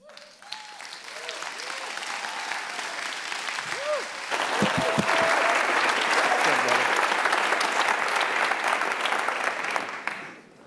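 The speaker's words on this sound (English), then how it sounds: "let's stand up and give a huge applause to our guest" Audience at a business talk applauding a guest speaker, Ryan Smith of Qualtrics, as he is introduced; clapping builds under brief talk and music, then swells into loud, sustained applause before tapering off at the end.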